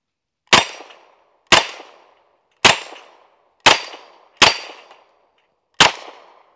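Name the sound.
M1 Thompson submachine gun firing at steel targets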